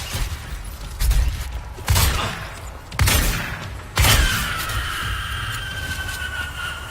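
Shotgun blasts in the video game Quantum Break: four loud, booming shots about a second apart, each with a short rumbling tail, followed by a lingering mechanical whine.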